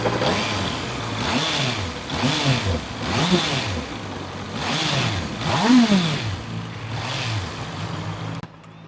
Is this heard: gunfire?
no